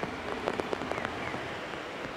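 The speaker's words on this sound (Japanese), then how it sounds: "雨風ともに激しさを増してきました" Heavy rain and wind in Shizuoka city in the evening, a steady dense wash of rainfall with scattered sharper drops and splashes, continuous and fairly close, with no talking.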